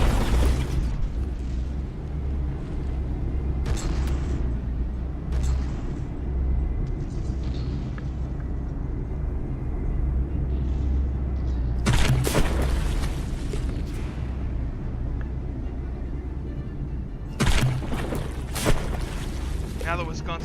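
Warship battle in the naval video game From The Depths, with heavy booming gunfire and explosions bursting out in several loud blasts over a constant low rumble of battle noise, with a commentator talking throughout.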